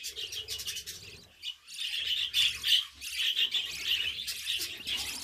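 Budgerigar chicks in a nest, a close, busy chorus of high rasping chirps and begging calls, nearly continuous with a brief lull, and no speech.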